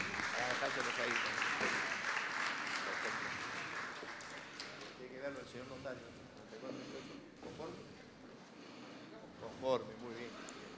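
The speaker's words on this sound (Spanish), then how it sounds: "fuerte el aplauso para ella" A crowd at a neighborhood prize raffle in Miraflores claps steadily, loudest at first and then fading, while voices talk over the tail end of the applause.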